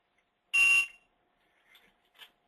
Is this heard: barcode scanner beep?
yes